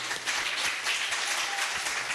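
A church congregation at a feast-day Mass for Saint Anthony claps steadily, a dense, continuous wash of many hands filling the hall without pause.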